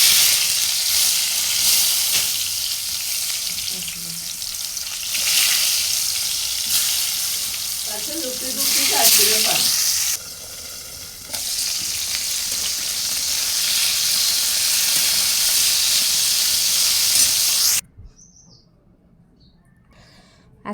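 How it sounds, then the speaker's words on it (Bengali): Sliced eggplant (begun bhaji) fries in hot oil in a pan, a steady loud sizzle with occasional stirring and spatula scrapes, which cuts off abruptly near the end into quiet. "বেগুন ভাজি করব।"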